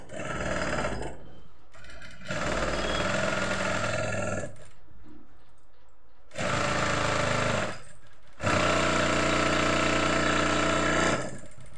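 A sewing machine stitches a kurti armhole in loud, close whirring runs that start and stop several times, with short gaps and a final longer, faster burst.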